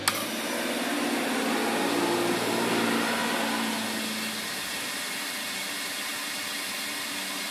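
Fuel injectors run on a homemade four-injector flow bench, making a steady hissing, whirring drone. It is loudest for the first few seconds, then eases to a lower, constant hum.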